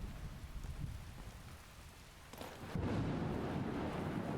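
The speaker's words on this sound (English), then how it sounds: "Seriously, though, I don't like this storm. It's very loud. Very rambunctious storm." Thunderstorm rain in Skyrim falls steadily, then swells into a much heavier roaring downpour partway through, with a rumble of thunder as it intensifies and no voices.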